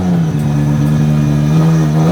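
A drift car's engine revs loud and close at Formula Drift Long Beach, holding a steady high-rpm drone with a strong buzzing tone for about two seconds, no talk over it.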